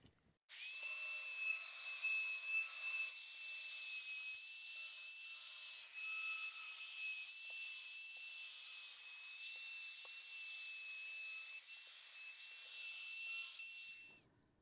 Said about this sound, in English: I'm going to round over all these edges with a 1/8 router bit.